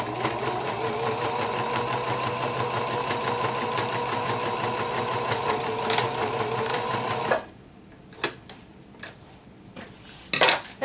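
A sewing machine stitches steadily along the edge of a fabric seam for a face mask, running fast and continuously for about seven seconds before stopping. A few faint clicks and handling noises follow in near silence.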